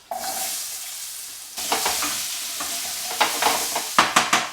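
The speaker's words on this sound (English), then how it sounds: "After about 1 minute, you add your beetroots." Beetroot is added to a hot pan of oil and spices and stirred, the sizzle jumping louder as it goes in and then continuing with repeated scraping strokes, close and with no speech.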